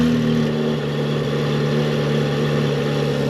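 A Corvette C8 Z06 with its catalytic converters deleted gives a loud, steady, droning engine note that holds a constant pitch throughout, with no voices.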